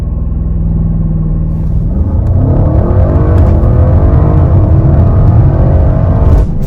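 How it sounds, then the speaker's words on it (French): A 2023 Audi RS7 Performance doing a launch-control start on a closed road, a deep, loud engine roar that surges and climbs through the gears as the car accelerates hard. "Vous l'avez vu, le launch control sur la route fermée, 0 à 100"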